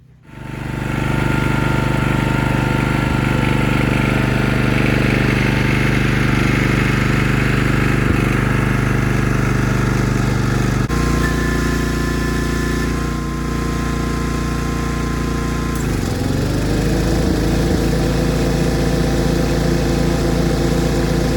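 A loud engine runs steadily with a droning, harmonic hum and mechanical whir, its pitch dipping briefly then recovering as the cutting gear engages.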